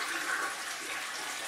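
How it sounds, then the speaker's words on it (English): A toilet flushing in a bathroom, a steady rushing gush of water heard close and alone for a moment. "Flush your toilet, of course."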